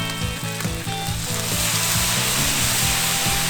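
Dakgalbi fries loudly on a cast-iron pot-lid pan as soju is splashed on, giving a dense, continuous hiss with rapid rhythmic scraping and clatter from stirring.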